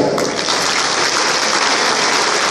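A group at a corporate drum-jam workshop claps for themselves in a loud, dense burst of applause that holds steady throughout.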